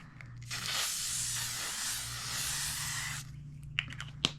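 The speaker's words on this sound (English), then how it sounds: "Setting spray. Use our L'Oreal Infallible." A steady hissing spray of L'Oreal Infallible makeup setting spray lasts about three seconds, followed by a couple of small clicks and taps.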